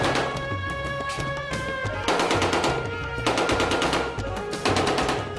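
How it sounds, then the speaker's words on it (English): Loud, close bursts of rapid automatic gunfire, several rattling volleys in a row over a steady background hum. "No one bats an eyelid here as gunfire racks the streets."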